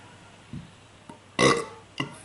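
A single loud belch follows a drink of home-brewed beer, preceded by small throat and mouth noises, close and alone in a quiet room.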